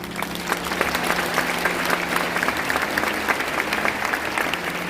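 Big audience applause at a church pastor ordination ceremony, loud dense clapping from a large congregation filling the hall, steady and continuous with a low hum beneath.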